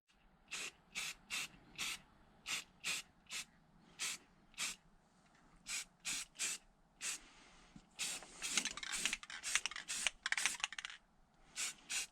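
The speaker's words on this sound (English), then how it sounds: "get ready to spray after I clean these little bits up" Short bursts of aerosol spray paint hiss in a steady on-off rhythm onto an engine block, close by, then longer overlapping sprays with faint rattling toward the end.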